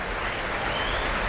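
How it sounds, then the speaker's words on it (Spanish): Dense, steady applause from a large crowd gathered in the Plaza Mayor of Valladolid for a royal procession on Armed Forces Day, a continuous wash of clapping that fills the open square without a break. "pues que responde con aplausos"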